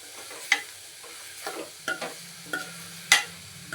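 Blood fry being stirred in a pan with grated coconut and fried egg, heard as scattered scraping clinks of a spoon against the pan over a faint, low sizzle, with no voices.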